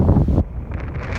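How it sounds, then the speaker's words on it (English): Strong south wind gusting across Charleston Harbor in South Carolina, loud roaring buffeting against the microphone that drops to a lighter rushing with a faint wash of choppy water behind it. "It's a little bit windy today"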